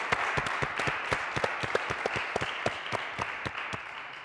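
Audience applause at a padel awards gala: a dense, even wash of clapping from a crowd, with distinct individual claps popping through throughout, no speech.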